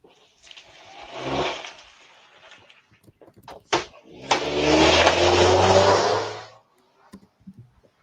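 A stolen car drives off, its engine revving in two loud bursts separated by a sharp bang like a door or impact, then fading away, with a few faint knocks afterward.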